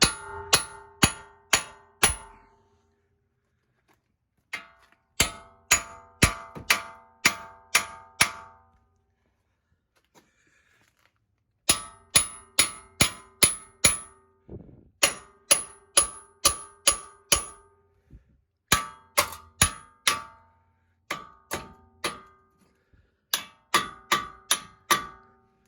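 A hammer strikes a stuck, seized wheel bearing in rapid rows of sharp, ringing metallic blows, loud and close, grouped in bursts separated by brief pauses.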